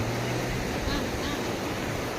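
Waves wash and surge steadily along the shore at Diveagar beach on the Konkan coast, a broad continuous rush close to the microphone with wind noise and background voices.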